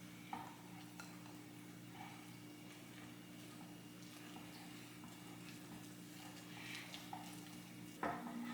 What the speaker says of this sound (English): and then you start mixing